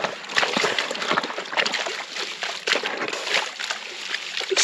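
Water sloshes steadily in a gold pan shaken vigorously back and forth to stratify the material, a continuous splashing wash with rhythmic surges, close and fairly loud for several seconds.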